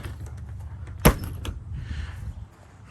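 The door of a 1981 Skyline Nomad RV is pushed onto its side door catch and latched outdoors, making one sharp click, with faint handling noise around it and no talk.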